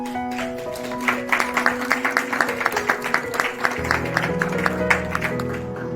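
Audience applauding the winner of the best documentary prize at a short film festival, a steady patter of many hands clapping, with musical tones sustained underneath and a voice speaking briefly.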